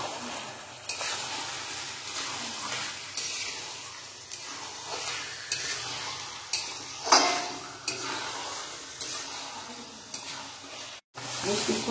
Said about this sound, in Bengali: পুরো ফুল আছে চিকেনটাকে কষাবো